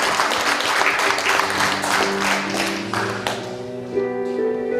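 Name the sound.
congregation applause in church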